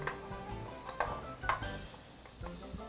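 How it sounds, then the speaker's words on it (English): Vegetables frying in a pan with sausage cooking alongside: a steady low sizzle under a few distinct clinks and scrapes of a utensil stirring against the pan, close and fairly quiet. "Now we'll just fry these up until they're nice and tender"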